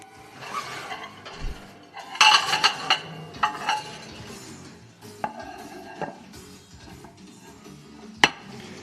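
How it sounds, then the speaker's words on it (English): Kitchen chopping with knife knocks and clinking of dishes and utensils, irregular close hits with a few louder clatters and quieter gaps in between. "Chopping sounds."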